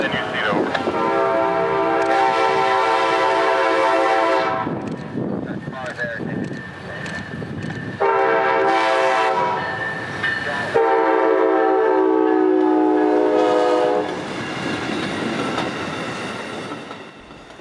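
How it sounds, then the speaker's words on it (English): An Amtrak Silver Star passenger train slows into town, sounding repeated long, loud horn blasts over rolling wheel noise as it passes close by. "as the 3 hours late southbound Silver Star slows into town"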